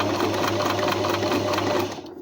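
A sewing machine stitches a buttonhole in a steady, rapid, close-up run of needle strokes, then stops abruptly near the end.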